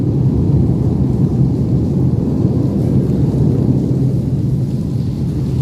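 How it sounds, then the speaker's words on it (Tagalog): Heavy typhoon rain pours steadily over a riverside bridge construction site in Pasig, a dense, loud continuous roar with low rumbling that may include thunder, no voices present. "Dahil na rin po sa pagbuhos po ng ulan."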